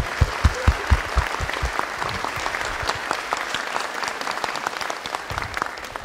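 An audience applauds students of a university program at a ceremony, starting with several sharp, separate claps. These quickly swell into steady, dense applause from a crowd in a hall that carries on throughout.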